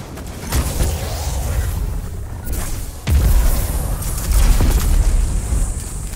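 Grenade and rocket explosions in a first-person shooter, with a couple of heavy booms and crackling gunfire throughout, including a loud blast near the middle and another a little later.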